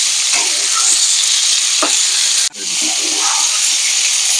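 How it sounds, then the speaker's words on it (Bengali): Vegetables fry in a wok for a Bengali fish curry, giving a steady loud sizzle with stirring scrapes throughout and a brief dip in the hiss partway through. "একটু এটা লাল লাল করে ভেজে নেব"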